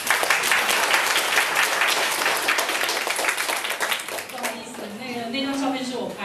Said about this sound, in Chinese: 来大家鼓掌